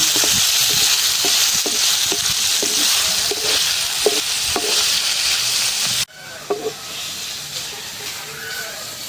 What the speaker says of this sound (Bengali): ফুলকপিটা ভাজা হইতে থাক